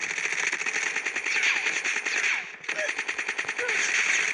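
Automatic weapon fire in the mobile shooter Call of Duty Mobile during a battle royale match, rapid continuous bursts with a brief gap partway through, loud and close, with a voice faintly audible underneath.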